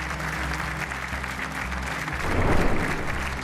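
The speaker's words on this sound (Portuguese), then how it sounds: "o vosso aplauso para a Cláudia Ramos" Studio audience applause greets a contestant on the Portuguese game show The Floor, a dense, steady wall of clapping that swells louder toward the end over low background music.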